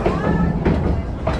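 A theme park safari train rolls on its rails past a white rhino enclosure, a steady low rumble with faint clatter running continuously and fairly close, under a guide's amplified narration.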